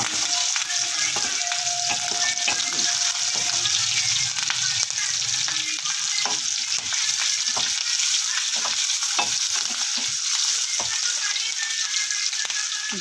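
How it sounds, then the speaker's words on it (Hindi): Garlic with green and red chilies frying in hot oil for a dal tadka, a steady close sizzle with scattered crackles and spatters throughout, no talk over it. "ये देखिए ये हमारा तड़का तैयार हो रहा है।"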